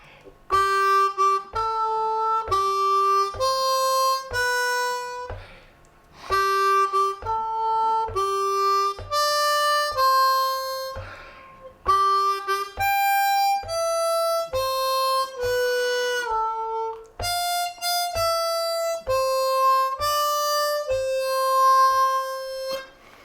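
A lower-octave C harmonica in first position plays Happy Birthday in a steady three-beat lilt, with clear reedy notes and a soft low pulse underneath, no talking.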